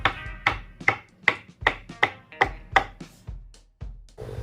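Gnocchi dough being portioned into dumplings with a knife, a series of about ten crisp, evenly spaced chopping taps against a cutting board, close and clear with short quiet gaps between strikes.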